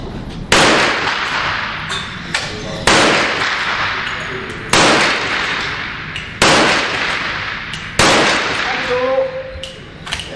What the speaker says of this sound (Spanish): Para los 5 disparos en 10 segundos.